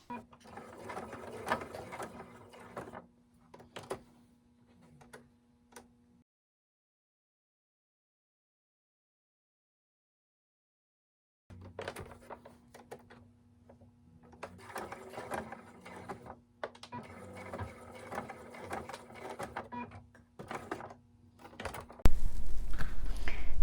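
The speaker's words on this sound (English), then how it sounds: "Take it to the sewing machine. Sew down, sew across, and then sew up." A sewing machine stitches a fabric face mask in two long bursts of steady, rapid mechanical whirring and ticking, separated by several seconds of silence. Close and clear, with a louder thump at the very end.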